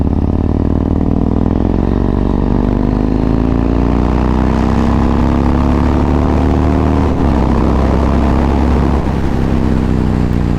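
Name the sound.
motorcycle exhaust note while riding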